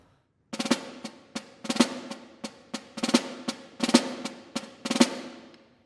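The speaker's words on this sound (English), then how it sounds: "that would sound incorrectly like this" Snare drum four-stroke ruffs played incorrectly with the strokes spread out, seven or so uneven bursts of buzzy rolled strokes at close range, each ending in a louder accent, alone in a quiet room.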